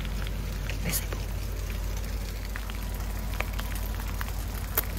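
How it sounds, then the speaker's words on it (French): Light rain falls steadily at the start of a second day outdoors, a soft continuous patter with a few sharper drop hits close by and no talking. "Un petit peu de pluie."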